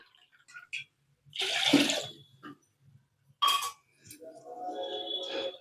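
One and a half cups of water pour in two short splashy bursts into a pot, with faint clinks between and a brief rising fill tone at the end.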